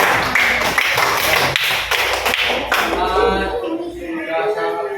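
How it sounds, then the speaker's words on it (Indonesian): A round of applause for a group in a class session, brisk clapping for a few seconds that fades out, with a voice speaking over the end. "tepuk tangan buat kelompok Pak"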